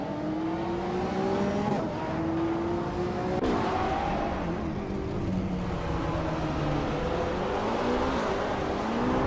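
A 2018 Aston Martin Vantage in a racing video game, its engine droning and shifting pitch up and down through gear changes, steady and mid-loud with other cars blended in and no talking.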